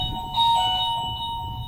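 An office doorbell chimes with a bright, sustained electronic ding-dong tone, fairly loud and near, over a low background hum, with no voices.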